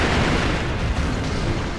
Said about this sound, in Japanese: 近づいて、すかさず爆竹、